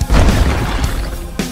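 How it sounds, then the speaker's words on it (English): A loud, booming Pokémon Showdown explosion move with a heavy low rumble, followed by a second sharp blast near the end. "is this just an explosion team?"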